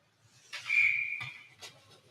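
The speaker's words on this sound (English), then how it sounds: "And we'll have a whistle." Referee's whistle at an ice hockey game between the Canton Akron Jets and Newark Generals, one shrill sustained blast about a second long, clear over a quiet arena background.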